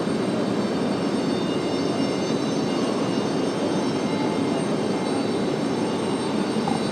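A Breeze Airways airliner at Raleigh-Durham airport gives off a steady, broadband jet roar that holds at an even loudness throughout, with no voices over it.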